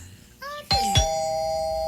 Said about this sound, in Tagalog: Unsa man ang nag-doorbell?